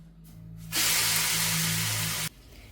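Moringa leaves drop into hot ghee in a pan and set off a loud, steady sizzle that holds for about a second and a half, then stops abruptly, with a low hum underneath and no talking.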